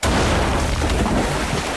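Dynamite blowing up in a Duck Dynasty video game, one loud, sustained rumbling blast that fills the whole moment and leaves no gap.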